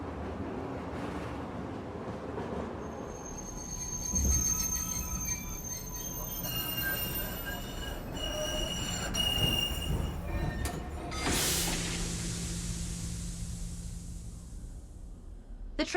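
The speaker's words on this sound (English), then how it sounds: "The train has stopped." A video-game train grinds to a halt, its wheels squealing in high metallic tones over a steady rolling rumble, with a sharp screech near the end before the noise settles.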